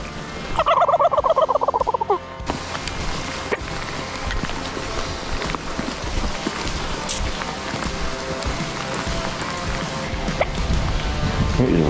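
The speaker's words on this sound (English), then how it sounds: "get these gobblers" Wild turkey gobblers let out a loud, rapid rattling gobble early on, then rain patters steadily on surfaces for the rest of the stretch outdoors in a field.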